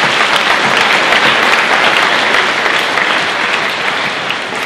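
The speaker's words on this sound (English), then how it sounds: "We also give them a round of applause." Sustained applause from a large crowd, steady and loud throughout with no pauses.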